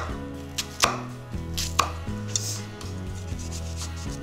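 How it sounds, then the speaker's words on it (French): A knife chops half a French shallot on a board, giving about ten sharp, evenly spaced taps over a low steady hum, close and distinct with no talking. "je vais couper l'équivalent d'une demi-échalote française"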